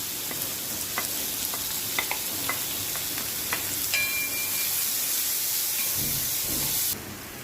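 Onions, garlic and ginger frying in a pan for bhindi masala, a steady sizzle with scattered clicks of stirring and a brief spoon scrape, close and alone, easing off near the end.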